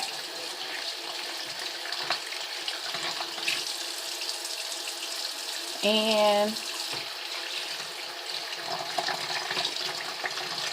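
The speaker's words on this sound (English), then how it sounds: "I'm going to do a quick rinse of the chicken." Tap water running into a sink while thawed chicken is rinsed, a steady splashing hiss under faint room noise, with a brief tonal squeak near the middle.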